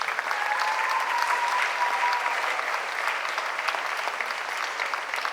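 Audience applause at a closing ceremony for ballet academies, a steady, dense clapping that carries evenly and at moderate loudness for the whole stretch.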